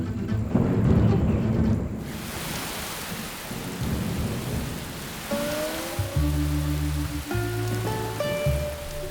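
Sudden heavy summer downpour in Beijing, with thunder rumbling loudly at first over steady hissing rain, then gentler rain on surfaces joined by a melodic musical score.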